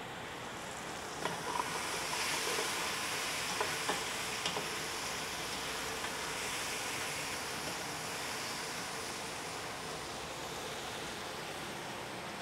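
Zucchini fries in a hot wok with a continuous bright sizzle, heard close and steady throughout, with a few faint clicks and stirring scrapes. No one speaks.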